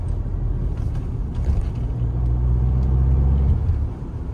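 A 2023 Tata Harrier SUV drives along a rough road, its steady low engine and road rumble continuous throughout, swelling slightly louder through the middle before easing back, with no voices.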